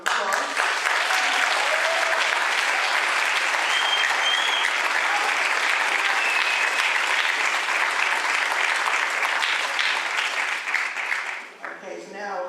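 Sustained audience applause at a National Junior Honor Society induction ceremony, a dense, steady wash of many hands clapping that carries on for about eleven seconds before tapering off near the end.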